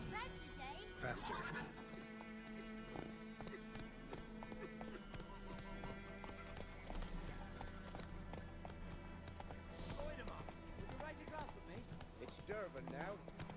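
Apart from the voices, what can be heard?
horse galloping in video game The Witcher 3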